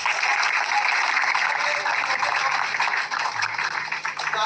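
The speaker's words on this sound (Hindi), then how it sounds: "ताली नहीं बजाओगे?" An audience breaks into sustained, dense clapping at a talk, loud and steady throughout, filling the room with no pauses.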